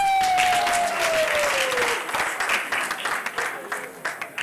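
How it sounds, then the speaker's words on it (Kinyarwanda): Audience applause at a comedy show, a dense crowd clapping that starts loud and thins into scattered individual claps, with a voice speaking over the start. "Amashyi menshi cyane kuri Sam Zubi"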